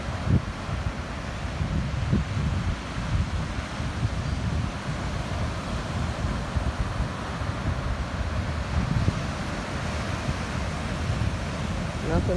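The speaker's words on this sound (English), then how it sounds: "Nothing like the sound of the waves at the beach." Steady surf washes on a beach at Emerald Isle, North Carolina, with a broad, continuous hiss, softened by wind rumble on the microphone and faint surges as waves break.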